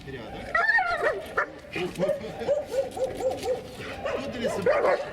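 A female dog in heat yips and whimpers in short bursts with a couple of barks during obedience training, close by, while people talk over it.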